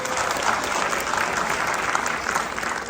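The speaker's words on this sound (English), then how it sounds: "Please give him a round of applause." Audience at an annual community event applauding a spiritual leader, a dense, steady wash of many hands clapping together, loud and even from start to finish with no talk over it.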